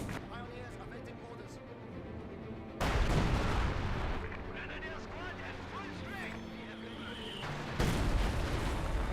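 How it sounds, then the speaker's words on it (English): Howitzer barrage in Company of Heroes 2: heavy shell impacts burst loudly at two moments over a steady background of battle noise and distant gunfire. "Howitzer barrage somewhere in this region, looks like."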